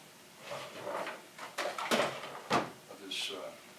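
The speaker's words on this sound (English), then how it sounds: "I'm going to put it back where I usually keep it, which is in the top drawer" A wooden buffet's top drawer slides open and shuts in a basement apartment, giving a few short knocks and scrapes heard under a talking voice.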